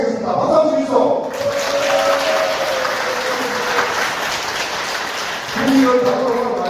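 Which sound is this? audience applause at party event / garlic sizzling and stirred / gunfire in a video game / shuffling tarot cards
audience applause at party event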